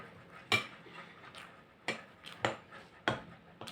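A knife slices through a soft sponge roll with jelly and chocolate, with a few sharp clicks as the blade meets the plate, spaced irregularly in a quiet room.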